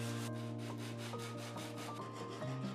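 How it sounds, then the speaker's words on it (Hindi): Steady rhythmic rubbing strokes of a file and sandpaper shaping a kitchen knife made from LEGO plastic, close and soft, with a continuous even scraping texture and no voices. "कभी हम इसे रेती से घिसते तो कभी रेगमाल से।"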